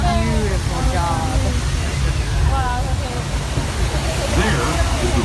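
A waterfall at the Sailing Ship Columbia rushes with a steady, broadband hiss throughout, while people talk over it nearby.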